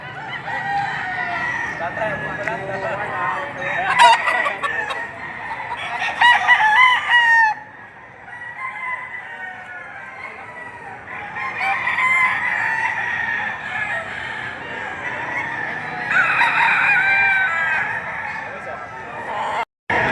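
Several roosters crow loudly in overlapping, drawn-out calls, with clucking and a voice murmuring in the background, in Padre Garcia, Batangas.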